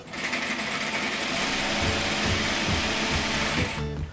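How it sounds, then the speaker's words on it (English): A sewing machine runs steadily close by, stitching the center back and neckline of a girl's Regency dress, a continuous rapid mechanical whir that stops abruptly near the end. "I'm stitching the center back and then around the neckline."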